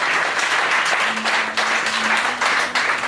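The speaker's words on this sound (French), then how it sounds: "On acclame le Seigneur très fort." A church congregation applauding loudly and continuously, a dense wash of many hands clapping close by, swelling in short waves, with a faint tone underneath.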